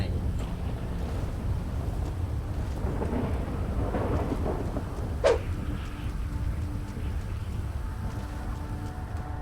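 Steady rain pours down in GTA V, a dense continuous hiss with a low rumble beneath and a single sharp crackle partway through, heard alone at moderate level.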